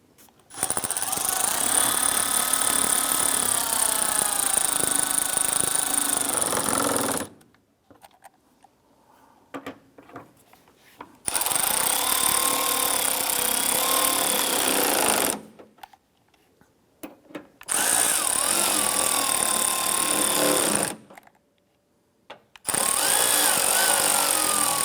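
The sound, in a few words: power tool tightening bolts on Chevrolet S-10 water pump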